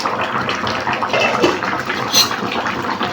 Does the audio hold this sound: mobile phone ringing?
no